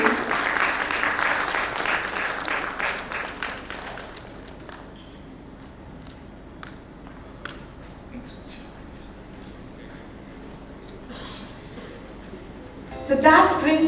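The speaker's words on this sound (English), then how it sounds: "A round of applause for them, please." Conference audience applauding session moderators at a corporate HR event in Bengaluru, a dense burst of clapping that fades after about four seconds into sparse scattered claps and room noise, with voices heard at the end.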